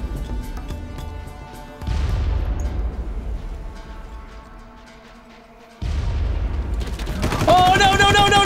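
A grenade goes off in Far Cry (2004, PC) with a loud booming blast and a decaying rumble. A second heavy blast follows a few seconds later, and rising game tones come in at the end.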